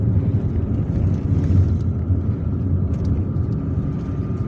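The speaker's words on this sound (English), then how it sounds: "now we are driving on National Highway 38" Steady broadband road and engine rumble from a car cruising on National Highway 38 near Algiers, Algeria, with wind noise, continuous and fairly loud throughout.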